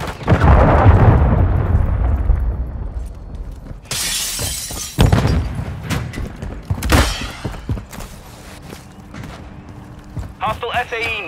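Frag grenade explosion in Call of Duty: Modern Warfare 3 multiplayer, a loud shattering blast near the middle, with gunfire bursts and in-game callouts around it.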